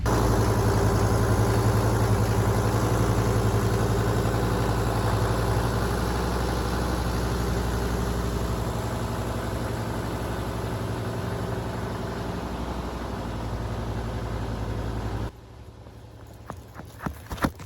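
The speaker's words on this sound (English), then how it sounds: "close up the van and go for a test ride in the new van" Mercedes van engine idling steadily and fairly close, a constant low rumble that drops away near the end, followed by a few faint knocks.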